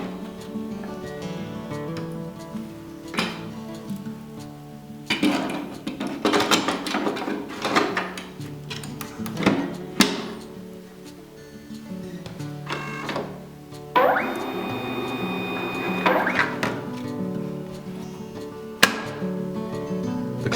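An IDP Smart 31/51 plastic card printer runs its cleaning cycle, giving off a series of mechanical clunks, whirs and feeding noises in irregular bursts, with a steady motor tone partway through.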